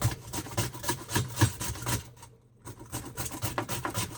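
Six onions grated by hand, a close rhythmic rasping scrape in repeated strokes with a short pause midway before the grating resumes, no talking.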